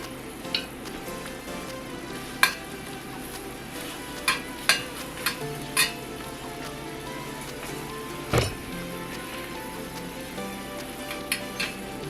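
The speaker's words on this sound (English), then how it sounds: "It's sizzling." Carrots in a brown sugar and honey glaze sizzle steadily in a hot pan, a continuous close frying hiss broken by a few sharp pops and crackles, with no voices.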